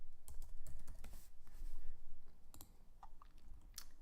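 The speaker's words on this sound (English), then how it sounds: "you can just type Krita here" Someone types on a computer keyboard, with quick irregular bursts of clicking keystrokes close by and short pauses between clusters.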